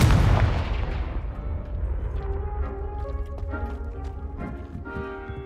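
A Confringo blasting spell fires in the Hogwarts Legacy video game, opening with a loud booming burst that decays into a rumbling tail with ringing magical tones and scattered crackles.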